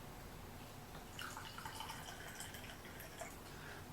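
Warm water trickles and drips into a container for a cleaning product test with a protein strip, a faint, quiet splashing that starts partway in over low background hiss.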